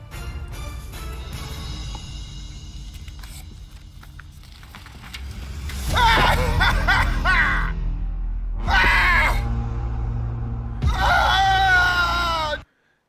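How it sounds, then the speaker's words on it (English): A man lets out several long, strained screams in bursts, loud and close, over a steady rumbling background, with a pause between each outburst. "Let's see if he screams again"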